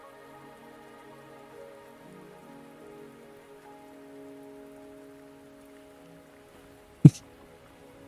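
Steady soft rain falls in the video game Wuthering Waves, a faint even patter under quiet tonal game music, broken near the end by one sharp short click.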